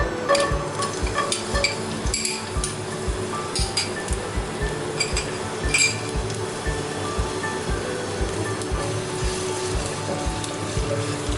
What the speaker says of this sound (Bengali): গার্লিকগুলো একটু ভাজা ভাজা করে নেব, যাতে এই অয়েলে গার্লিকের ফ্লেভারটা ইনডিউস হয়ে যায়।